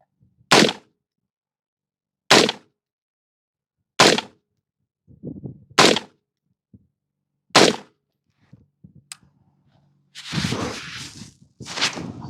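Patrol rifle shots at a shooting range crack out one at a time, six loud, sharp reports spaced about 1.5 to 2 seconds apart, with quiet handling noise between and a burst of rustling at the end.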